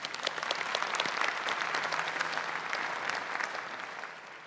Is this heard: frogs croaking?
no